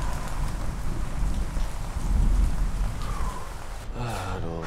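Rain falls in a steady, dense hiss with low rumbling underneath, loud and continuous, with a brief voice-like sound near the end.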